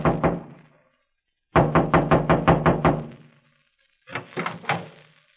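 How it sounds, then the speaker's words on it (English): Knocking on a trailer door in a radio drama: three bursts of firm, close knocks, a few raps, then a rapid run of about eight, then a final group of four or five, with silence between. "I walked through the clearing and knocked on the door."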